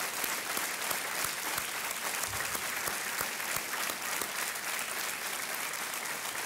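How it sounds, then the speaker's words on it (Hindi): A television quiz show studio audience applauds, dense steady clapping filling the whole stretch at even loudness with no pauses. "एक बार तालियों के साथ फिर अभिनंदन अजय देवगन, सोनाक्षी सिन्हा."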